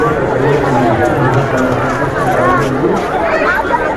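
A crowd of pilgrims gathers at Triveni Ghat in Rishikesh for the evening aarti. Loud, close babble of many voices mixes with shuffling footsteps, and the crowd noise stays steady throughout.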